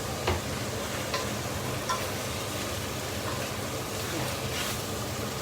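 Beef rendang stirred in a pan with garlic powder, a steady low scraping and soft sizzle with a few brief clicks of the utensil against the pan, close and continuous without talk.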